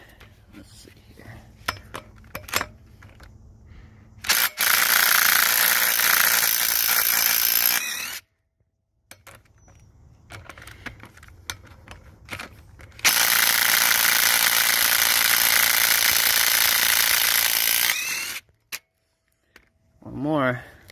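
A power tool works on the flywheel of a Mitsubishi 4G63T engine, two long loud bursts of buzzing ratcheting separated by quieter clinks and handling noises in a garage.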